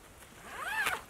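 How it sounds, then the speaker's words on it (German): A single quick pull of a zipper on an Alexika Trek 2 tent, close and crisp, rising in pitch and ending with a sharp stop. "Aber hier hat man den Reißverschluss auf beiden Seiten."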